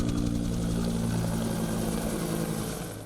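A police helicopter's rotor and engine throb close and steady, a loud continuous beating roar that fades slightly toward the end.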